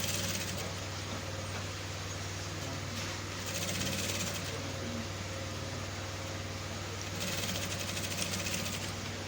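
A sewing machine stitches a shirt cuff in a steady, continuous mechanical hum that runs the whole time, with a slight surge partway through.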